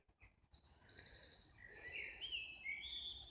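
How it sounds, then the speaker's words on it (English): High in a tree in the early morning, a blackbird sings a string of clear whistled phrases, moderately distant over a soft outdoor hush, with no voices. "There's a wee blackbird away up high in a tree over there, singing away."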